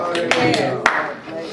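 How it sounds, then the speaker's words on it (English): A church congregation claps hands in a few sharp, scattered bursts, close and fairly loud, over a busy room with voices mixed in. "Somebody clap the hands."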